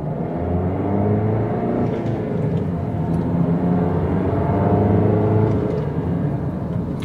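A Jeep Patriot diesel car drives on an open road, its engine giving a steady loud rumble and whir with tyre and road noise, heard from inside the cabin without talk.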